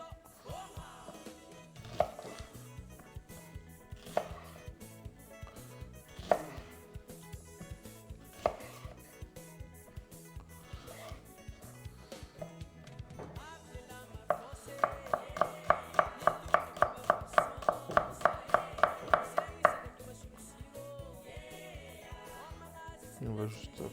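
A knife cuts through shallots on a board, giving a series of sharp taps spaced a few seconds apart, then a fast, rhythmic run of chopping strokes, close by with faint background noise.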